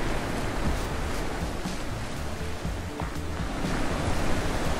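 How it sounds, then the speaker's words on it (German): In the video game The Witness, a loud waterfall gives off a steady broadband rush like roaring surf, constant and enveloping, with no speech over it. "Oh, ist der Wasserfall laut."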